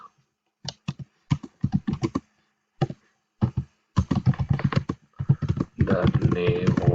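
Clusters of quick key taps on a computer keyboard come in short bursts separated by pauses, close and crisp, followed by a denser stretch of faster typing near the end.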